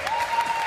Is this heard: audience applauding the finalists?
yes